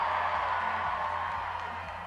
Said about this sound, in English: a big cheer from the crowd